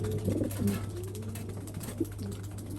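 Pigeons in a loft give soft, low, repeated coos, several rounded calls close together and fairly faint over a steady background hum.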